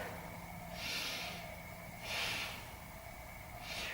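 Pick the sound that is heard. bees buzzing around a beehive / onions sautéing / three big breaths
three big breaths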